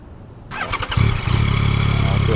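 A 2024 Yamaha MT-09 fitted with a Yoshimura R11 exhaust cranks and fires up, catching into a loud, deep, throbbing idle close by.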